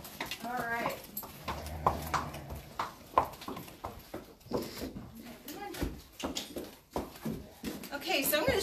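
Hooves of a horse clip-clop on a hard floor as it is led into a lighter area of a farm barn, scattered sharp knocks mixed with people talking nearby.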